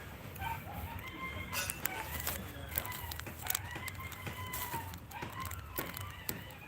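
Chickens clucking and a rooster crowing, close and repeated through the stretch, with bird calls and small clicks over a steady background.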